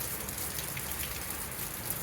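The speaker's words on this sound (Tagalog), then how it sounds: "Pero ang ulan dito, hindi dire-diretso." Rain falling in Sydney, Australia, a steady continuous patter of drops on surfaces, fairly close and even throughout with no voices.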